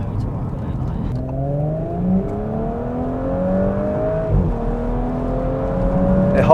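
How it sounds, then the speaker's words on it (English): An Audi S4 B9 accelerates hard, its engine note climbing through the gears in a series of rising sweeps with quick drops at each shift, heard from inside the car and steady and prominent throughout. "It just goes through the gears like no tomorrow."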